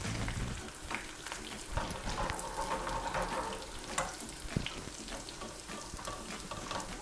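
Cumin seeds and dried chili frying in hot oil for restaurant-style tarka dal, a dense continuous sizzle with crackling pops and occasional spoon stirs, close and loud with no talking.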